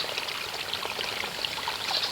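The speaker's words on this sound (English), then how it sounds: "I don't know if y'all can hear that, but that's my creek, runs all the way through" A creek running through the grounds of an 1892 home flows steadily, a continuous broad wash of moving water with small trickles and splashes, fairly close and alone.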